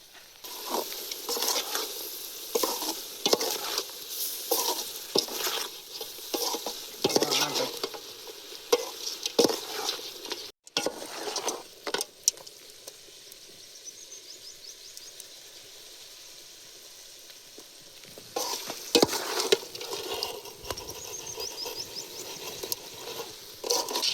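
Pepper chicken stir-frying in a pan in a village kitchen, a steady close sizzle broken by repeated scraping stirs, with a short quieter stretch midway before the frying and stirring pick up again; no talk.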